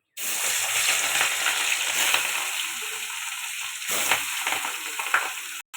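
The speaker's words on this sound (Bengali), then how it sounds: "তেলটা হয়ে গেছে, এবার মাছটা দিয়ে দেবো।" Fish coated with turmeric, chilli and salt fries in hot oil, a loud, steady sizzle that crackles close up, surges briefly, then cuts off.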